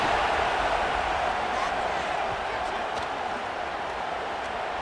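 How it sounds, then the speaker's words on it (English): A roaring stadium crowd in the College Football 26 video game, during an LSU at Alabama game, makes a dense, constant wash of cheering noise. It holds at a steady level with no clear breaks, and a voice is faintly audible under it. "Listen to this crowd just shaking the girders of this place, trying to help their defense."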